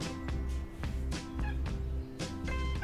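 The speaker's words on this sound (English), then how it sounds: "I don't know if you can hear him meowing." A cat meows several times over steady background music, the calls rising and falling in short bursts.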